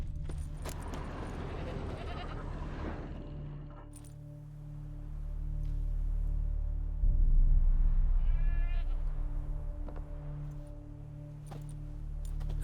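Eskel's goat in The Witcher 3: Wild Hunt, which bleats loudly and repeatedly over a low steady ambient hum, with a brief metallic jingle in the middle.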